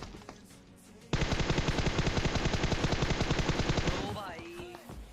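Rapid gunfire spray in the mobile game PUBG Mobile: a dense, loud burst of automatic shots that runs continuously for about three seconds, then cuts off into quieter game effects.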